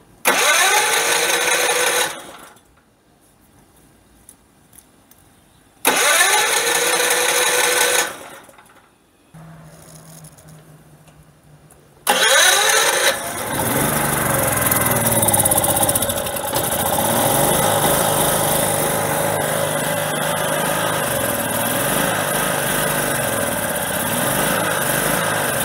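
A tri-fuel generator engine running on propane after a carburetor conversion, loud buzzing bursts that cut out twice before the engine catches and settles into a steady, slightly uneven drone.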